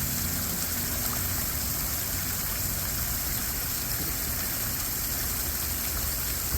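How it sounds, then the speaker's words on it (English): A medium-sized garden water feature driven by a recirculating pump gives off a steady, even rush of falling and splashing water, heard alone and moderately quiet throughout. "But this is what a medium-sized water feature sounds like."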